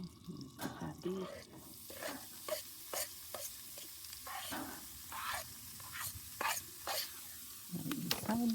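Beef browning in melted butter in a pan at a campsite sizzles steadily, broken by repeated scraping and clattering stir strokes, while someone talks quietly now and then.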